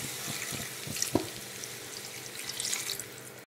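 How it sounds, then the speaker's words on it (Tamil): Water is poured into sautéed onions in a pan while cooking Chettinad onion kosu, giving a steady, close splashing and pouring rush with a brief louder splash near the middle. "இதல தண்ணி ஊத்திக்கலாம்"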